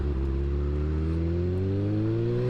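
A motorcycle engine pulls hard under acceleration, its steady tone climbing smoothly in pitch, loud and close throughout with no talking.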